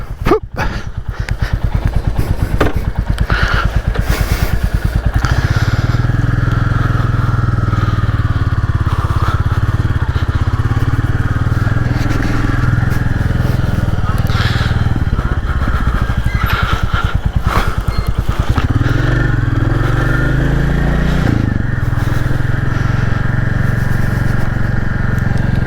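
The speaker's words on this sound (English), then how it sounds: "So I'm going to take that out on the same route and see how we get on." Royal Enfield Classic 350 single-cylinder motorcycle riding, its thumping engine loud and continuous throughout, rising and falling with gear changes and throttle, with no voices.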